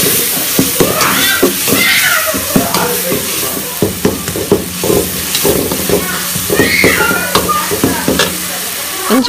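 Ginger garlic paste sautéing for a village-style curry, close sizzling frying with frequent sharp stirring scrapes and ladle clatters in an irregular rhythm, loud, with voices in the background.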